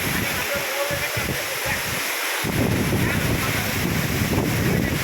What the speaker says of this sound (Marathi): वरून सुंदर धबधबा आहे